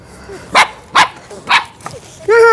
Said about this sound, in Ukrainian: Ще гавкає на мене.